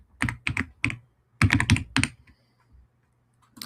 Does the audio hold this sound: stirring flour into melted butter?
no